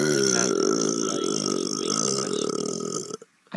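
One long, drawn-out burp rumbles close and fairly loud, then breaks off abruptly into near silence.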